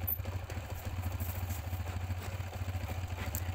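A motorcycle engine idles steadily after starting during a regulator check, a low even chug with light mechanical clatter close by and no talking.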